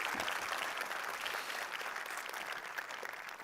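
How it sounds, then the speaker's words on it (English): An audience at a tech conference opening keynote claps steadily, a dense wash of applause that holds at even strength and fades slightly at the end. "Please give Aida a round of applause."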